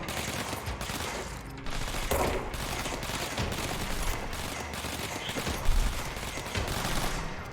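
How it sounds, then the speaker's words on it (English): Submachine gun fire in the game Control, dense bursts of rapid shots crackling over a busy combat backdrop, loud and sustained with no talk. "There's a submachine gun or something. Where is he shooting from?"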